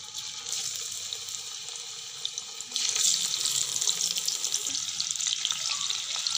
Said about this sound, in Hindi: और करेंगे हम फिश को मीडियम फ्लेम पे फ्राई